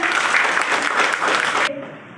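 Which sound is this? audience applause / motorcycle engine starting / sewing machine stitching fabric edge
audience applause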